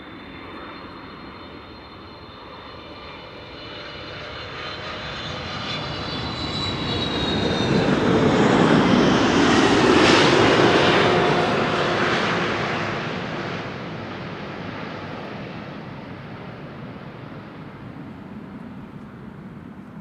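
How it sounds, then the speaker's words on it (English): A KLM Boeing 777-300 arriving from Panama City at Amsterdam Schiphol roars in as a single jet pass, swelling from a distant rumble to a loud peak midway and then fading slowly, with a thin whine high above the broad roar. "KLM flight 758 arriving from Panama City."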